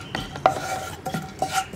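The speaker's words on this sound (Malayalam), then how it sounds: "ഇനി നന്നായിട്ടൊന്ന് ഇളക്കി ഒരു 30 സെക്കൻഡും കൂടി ഒന്ന് ചൂടാക്കി എടുക്കുക." A spoon stirring spice powders in a pan on low flame for an egg roast, a few close scraping strokes with light sizzling between them.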